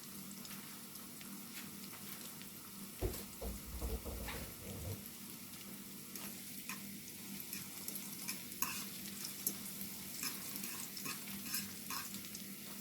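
Onions sauté in coconut oil with a constant close sizzle, a spatula scraping and stirring for a few seconds near the start, then steady crackling with scattered pops; no voices.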